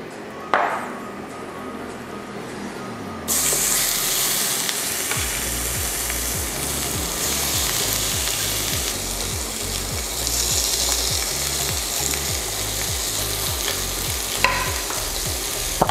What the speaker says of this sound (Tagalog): lutuin na natin yung ating chicken breast. So same pan, low heat.